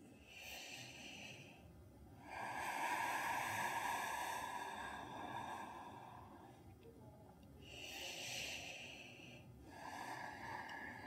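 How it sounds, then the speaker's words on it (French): Slow ujjayi breathing during a gentle morning yoga session, faint, airy oceanic breaths alternating in long drawn-out inhales and exhales, close and quiet. "Quelques respirations ujjayi ici."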